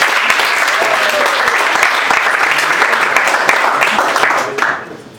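Loud, dense applause from a large audience at a Startup Weekend event in Varna, close and sustained, then tapering off in the final half second.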